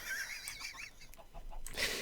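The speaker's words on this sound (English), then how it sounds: "And the white chickens are starting to spill over." Chickens in the Minecraft Sky Factory 3 video game cluck in short, high, warbling calls that overlap and crowd together, ending in a sharper squawk.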